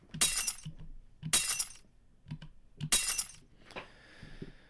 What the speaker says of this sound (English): We're breaking the glass on that one.